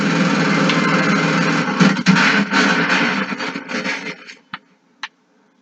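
Dense, rapid MG-40 machine gun fire in the video game Far Cry 5 rattles continuously in a harsh wash, then breaks off into a few isolated final shots near the end.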